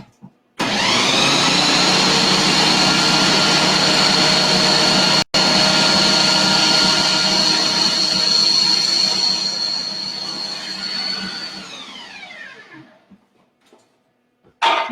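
A food processor grinds ingredients for a banana cream pie filling, a loud, steady motor whir with a brief cut near five seconds, then winding down to a stop and fading into quiet.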